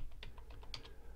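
A computer keyboard clatters under quick, light keystrokes as a command is entered, about eight close taps in an uneven run against a low steady hum.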